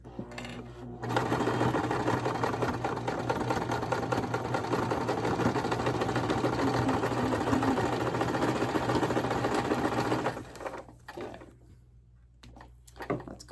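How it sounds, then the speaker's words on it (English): A sewing machine stitches slowly through a thick dish drying mat at a seam, running in a steady, close whirring drone for about nine seconds before stopping, followed by quieter handling sounds. "We're going to back stitch at the beginning and at the end, and we're going to go slow over the thick part where the seam is at."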